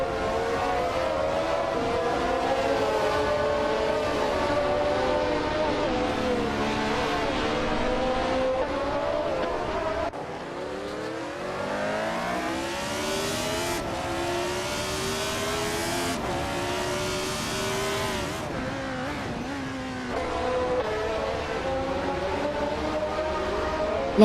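A Penske PC1 race car in a racing game screams steadily through its gears, engine pitch rising and falling with repeated upshifts and braking, loud and continuous with no talk.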